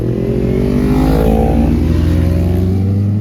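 A BMW M8 Competition engine revs hard at a car meet, a loud, close, steady deep roar with rising and falling harmonics that holds for about three seconds, no voices over it.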